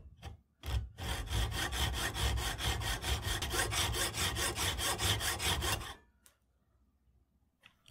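A hand saw cuts off excess metal from a bayonet catch for a Mannlicher 95 rifle, a brisk run of about twenty rhythmic rasping strokes close up, followed by a few faint scrapes and quiet.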